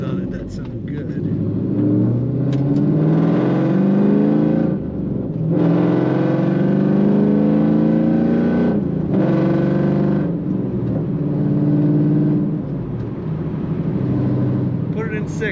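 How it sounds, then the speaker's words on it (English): A 2001 Chevrolet Camaro SS T-top coupe with aggressive mufflers drives on the road, its engine droning and rising in repeated revving surges, heard from inside the car with occasional talk. "It's got some aggressive mufflers on it that sound good."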